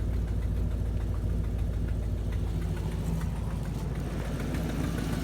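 A 2005 Ford F-350 with the 5.4L engine idles rough from a vacuum leak, a steady close low rumble with a slightly uneven, knocking pulse throughout and no talk.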